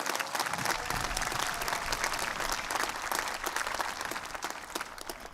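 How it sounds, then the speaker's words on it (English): Applause for the graduating class at a 2023 Quincy College commencement ceremony: a large crowd clapping continuously with scattered sharp claps and some cheering, easing a little toward the end. "please put your hands together and give a big applause to the graduating class of Quincy College 2023"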